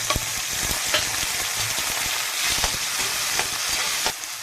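Chopped tomatoes hit a pan of browned onion, garlic and cumin, giving a steady close sizzle broken by sharp scraping stirs and clicks of a spoon throughout, with no voices.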